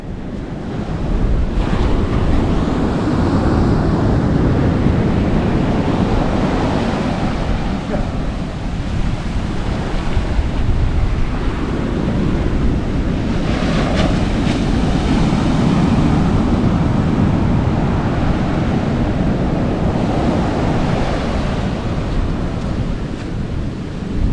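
Strong wind roars across the microphone on a Sri Lankan seashore, mixed with the steady wash of breaking surf, loud and continuous throughout with no pauses.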